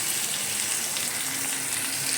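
A spice paste of chili, cumin, turmeric and coriander powders fries in hot oil with a steady, dense crackling sizzle, close and continuous throughout.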